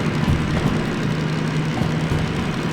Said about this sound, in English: I must say that DM3 kind of sounds like a old-time fighter plane, like a World War II fighter, even though it's a diesel engine.